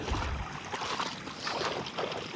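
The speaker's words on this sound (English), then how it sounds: "Surprised it's so windy." Wind blows outdoors and rushes across the microphone as a steady broadband whoosh with slight gusty swells, moderately loud and without voices.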